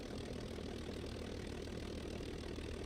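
A light aircraft's propeller engine running at low power, a steady droning hum with a rough low rumble, constant and unbroken.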